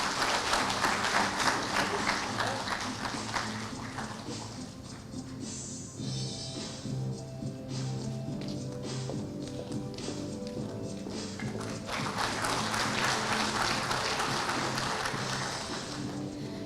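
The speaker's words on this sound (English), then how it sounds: "Huge round of applause" An audience applauding at a bank's young bankers convocation ceremony, dense clapping that holds steady for the full stretch, with a quieter dip partway through before swelling again, and some tonal sound layered underneath.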